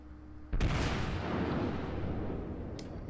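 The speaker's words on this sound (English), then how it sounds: "He fires a volley at those cruisers." A volley from the 16-inch guns of the battleship North Carolina in World of Warships: a sudden heavy blast after a quiet moment, followed by a long rolling rumble that slowly decays, with a faint sharp crack near the end.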